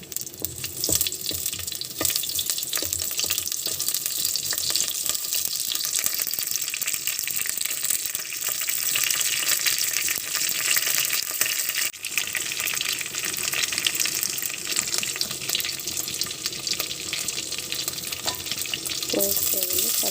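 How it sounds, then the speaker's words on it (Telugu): Spices for tempering crackle and sizzle in hot oil in a pan, a loud continuous frying hiss with occasional stirring clatter and a brief knock near the end, heard alone without talk. "పోపు వేస్తున్నానండి"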